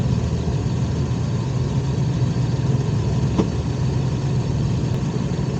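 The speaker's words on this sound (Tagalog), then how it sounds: "Ganda na tunog ng makina mga master." A van engine idles steadily after a DIY leak repair, a close, even, low rumble with no revving and a faint brief click partway through.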